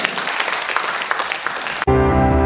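An audience applauds after a recitation of an essay at a cultural heritage reading event in Gyeongju, a dense clapping patter that cuts off abruptly near the end as tonal music begins.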